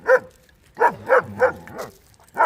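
German Shepherd dogs bark close by in a ragged series of about six loud, sharp barks with short gaps between them, heard alone with no talking.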